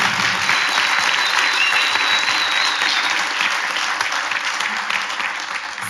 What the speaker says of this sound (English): Please give a big round of applause for Radiant Games.